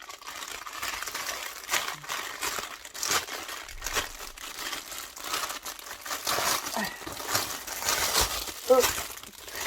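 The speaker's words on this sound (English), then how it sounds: "excuse the rustling" Crinkly rustling of soft material or packaging, close by and fairly steady, with a few sharper crackles and a voice speaking underneath, while sock yarn is shown.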